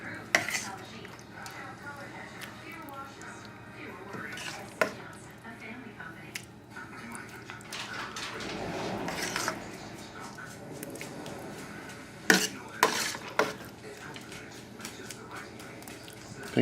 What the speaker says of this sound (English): So we'll fill this casserole dish and we're done.